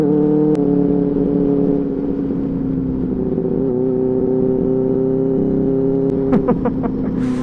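A car engine hums steadily while driving, its drone shifting slightly as the driver moves into a higher gear to lower the revs, with a few clicks near the end.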